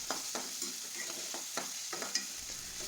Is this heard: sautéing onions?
yes